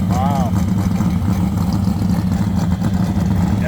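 An AMC Javelin engine and exhaust idle with a steady low rumble at a Sunday morning car meet, while people talk over it nearby.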